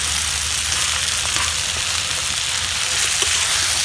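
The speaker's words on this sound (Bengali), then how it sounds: "ভালো করে আরও ভেজে নেব।" Roti pieces fry in hot oil with onion, chili and tomato, giving a steady, dense sizzle with light crackle that runs unbroken at close range and carries no talk.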